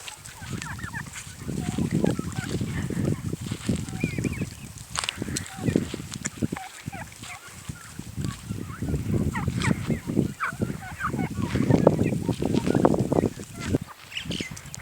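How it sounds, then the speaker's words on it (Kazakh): Domestic fowl on a small home farm calling and clucking steadily, a busy overlapping flock close by with rustling movement throughout. "Мінекей міне тауықтар."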